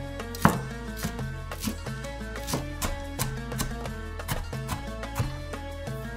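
Coriander leaves are finely chopped with a knife on a board in quick, even, close strokes, and the rapid rhythmic taps continue without a break.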